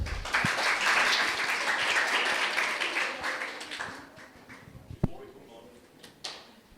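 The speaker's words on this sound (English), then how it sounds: "Let's give them one more big round of applause." An audience at a high school debate competition applauds grade 10 and 11 debaters, dense clapping at first that thins out and fades after a few seconds, followed by scattered knocks and quiet room noise.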